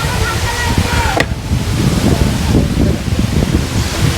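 Waterfall spray and rushing water along the Jalori Pass road, a dense, steady roar of falling water close by that fills the whole clip, with one sharp crackling burst about a third of the way in.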